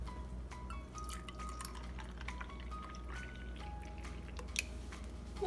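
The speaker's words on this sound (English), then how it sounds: "I'm gonna pour it in here, and Nathan's gonna pour it over the batter." Coconut milk is poured over pancake batter in a kitchen, a faint liquid trickle with scattered drips and light splashes against a steady low background hum.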